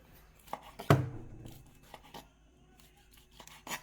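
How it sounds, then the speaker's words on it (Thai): A knife slices cooked pork into bite-sized pieces across the grain on a cutting board, with one sharp thud followed by quieter scattered cuts and light scraping, close and without talk. "แล้วเราก็ค่อยมาหั่นนะครับ หั่นเป็นชิ้นพอดีคำหั่นขวางลายนะครับ"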